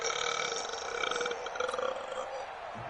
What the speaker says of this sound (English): You just burp, dude?